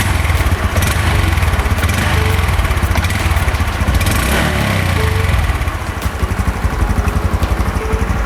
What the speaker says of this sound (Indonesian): Jadi ini suara mesinnya ya teman-teman, bisa didengar dulu.